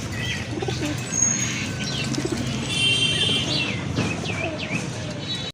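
Giribaz and Satin pigeons kept for sale coo and flap amid a busy flock, with chirps and wing noise running throughout at moderate loudness over a steady low hum.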